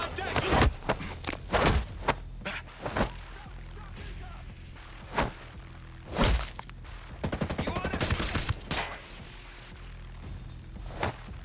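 Turret machine gun fire in Ghost Recon Breakpoint, with heavy isolated shots and thuds spread out, then a rapid rattling burst near the end, loud and close, mixed with game sounds.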